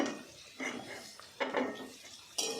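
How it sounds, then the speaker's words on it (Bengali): Fried cauliflower and potato are scooped out of a pan with a metal utensil, giving a few distinct scraping clatters against the pan over a quiet background. "ফুলকপি আলু ভেজে আমি তুলে নিচ্ছি"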